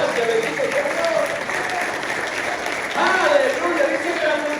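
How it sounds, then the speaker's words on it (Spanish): Applause from a church congregation during a sermon, a continuous wash of clapping that swells slightly midway, with voices and a speaker's exclamations mixed in. "Dale un aplauso"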